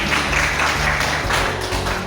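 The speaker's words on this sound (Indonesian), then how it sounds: "Boleh tepuk tangan untuk Bukis." An audience at a presentation session claps for the presenter, a brief, steady patter of many hands at close range.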